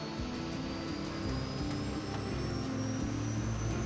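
Airliner engines at takeoff thrust make a loud, continuous roar with a rising high whine, held steady for a few seconds with no voices.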